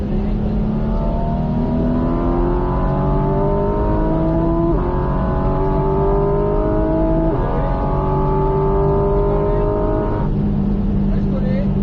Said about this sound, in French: Et, allez, on commence à accélérer.